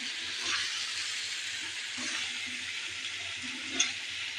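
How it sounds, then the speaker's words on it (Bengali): A spice paste of ground onion, ginger, cumin, turmeric, chili and coriander powder is sautéed in a pan, making a faint, steady low sizzle with a brief clink near the end. "এদিকে পেঁয়াজ বাটা, আদা জিরা হলুদ মরিচ ধনিয়া গুঁড়া দিয়ে মশলাটা কষিয়ে নিচ্ছি।"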